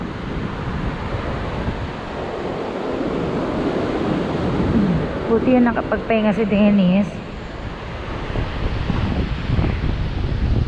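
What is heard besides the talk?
strong wind and ocean waves at Boracay beach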